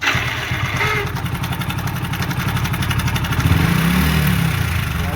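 A Hero Splendor Pro motorcycle engine runs close by with an abnormal noise, a steady rough, rattling putter that holds throughout and grows slightly louder and heavier toward the end.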